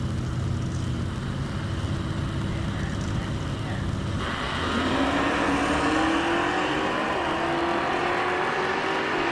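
Two drag cars launch together at a drag strip, a 1981 Fairmont wagon and a 1968 Camaro. Engines roar under a steady rumble, then surge louder midway as revs climb and the cars pull away, with faint crowd noise beneath.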